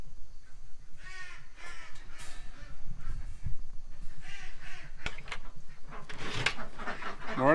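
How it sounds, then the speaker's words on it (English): Ducks quacking in their pen on a farm at early morning: repeated loud, harsh calls come in bursts close by, with rustling and other farmyard noise between them. "I can hear those quacksters from here."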